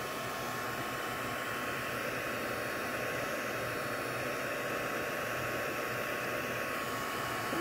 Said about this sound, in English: But once my heat tool warms up,